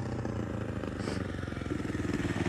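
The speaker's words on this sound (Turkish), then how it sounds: "Oğlum senin egzoz kaçırıyor ha." A motorcycle with a leaking exhaust runs nearby, a low pulsing, slightly rattly engine note that idles and throbs steadily, with a brief hiss partway through and no talk.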